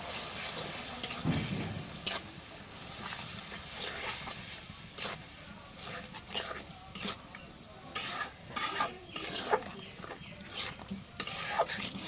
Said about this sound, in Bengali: এখন মশলাটা একটু কষাই